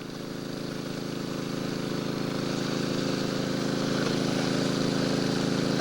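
A 3.5 horsepower motor powering a 4-inch bazooka gold dredge idles steadily, a constant droning hum that swells slightly louder over several seconds with no voices.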